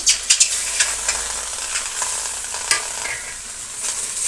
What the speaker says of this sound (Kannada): ತುಂಬಾ ಬೆಂಡೆಕಾಯಿ ನೋಡಿ ಒಂದು ಅರ್ಧ ಭಾಗ ಫ್ರೈ ಆದ ನಂತರ ನಾವು